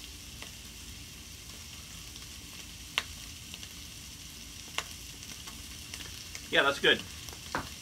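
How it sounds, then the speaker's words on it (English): Sausage frying in a pan gives a steady, low sizzle throughout, with a few light knocks. Near the end a voice speaks briefly. "That sausage is cooking up pretty good."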